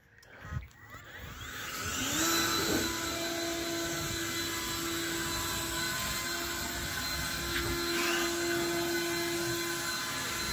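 An Ego motorized leaf blower, used to blow out a 1962 Chevy Impala, whines up after a brief start and then roars steadily with a high-pitched tone, close and loud, with no talking.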